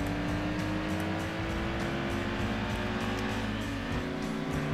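Daihatsu Pajero Mini-style mini SUV engine in Gran Turismo 2, a steady buzzing drone that rises in pitch under acceleration with faint tire noise, loud and continuous, no talking.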